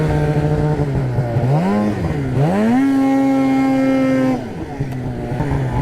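A Polaris RMK snowmobile ridden through snow, its engine close and loud, revving up and down in swooping pitch changes before easing back to a quieter idle.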